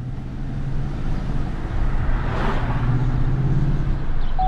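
A truck fitted with a cold air induction intake drives along, a steady loud low engine and road rumble heard from inside the cab, with no one speaking.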